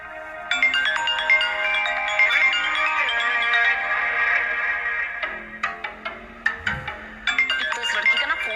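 A mobile phone ringtone plays loudly as a bright, steady electronic melody, continuing through a brief break of choppy notes before the tune resumes; no speech over it.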